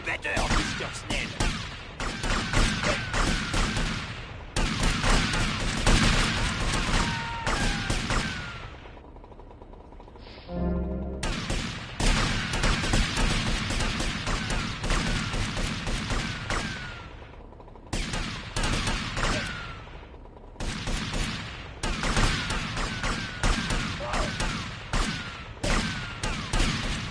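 Heavy video game gunfire from a console shooter, dense bursts of shots and fusillades filling most of the stretch, with a brief lull in the middle and game voices mixed in.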